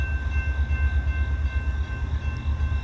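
An Amtrak train approaches a quad-gated crossing in a no-horn zone in Glendale: a steady, moderately loud low rumble of rolling wheels and engine drone with no horn, no voices.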